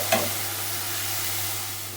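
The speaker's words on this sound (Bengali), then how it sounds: "আলু ভাজা আর পরোটা হবে" Potatoes with salt and turmeric frying in a pan, a steady sizzle with a brief stir near the start, close and continuous with no talking.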